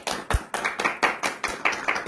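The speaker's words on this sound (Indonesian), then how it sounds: "Boleh tepuk tangan" A small studio audience on an Indonesian talk show claps in a light, uneven patter of separate hand claps, fairly close and steady for about two seconds with no talking over it.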